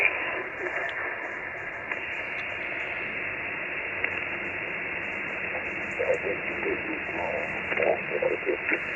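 Portable ham radio receiver in a Land Rover at a campsite hisses with steady band-limited static, a continuous muffled noise bed with faint crackles and brief bursts toward the end.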